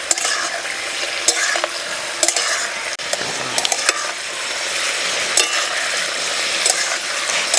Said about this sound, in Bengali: পেঁপে ভাজার সময় একদম তাড়াহুড়ো করা যাবে না, একটু সময় নিয়ে ভাজতে হবে।